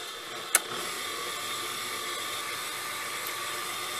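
Electric mixer whirring steadily while blending flour and whipping cream for chocolate mantecadas, a continuous close motor whine after a brief sharp click.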